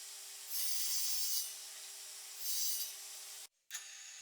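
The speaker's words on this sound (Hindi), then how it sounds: "लाइट के पिछले हिस्से को स्टार की शेप में काटने के लिए मैंने पेंसिल से निशान लगा लिया" Two rasping strokes of a cut along a pencil-marked line on the back of a DIY acrylic night light, each about a second long, close and fairly loud. A brief click follows near the end.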